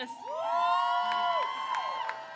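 At a college diploma ceremony, a crowd cheers and whoops for an assistant dean, with shrill yells and sustained cheering rising and falling over about two seconds.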